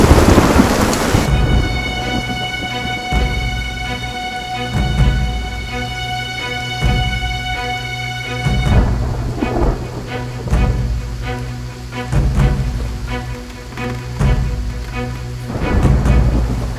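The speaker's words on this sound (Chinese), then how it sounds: "外面打雷了，我很害怕" A thunderstorm at night in a period film: rain pours steadily while deep thunder rumbles and cracks return several times. Sustained tones ring under the storm, and no one speaks.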